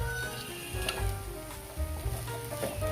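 Beef chao fan fried rice stirred in a hot pan, giving a continuous sizzle with soft scraping stirs beneath background music.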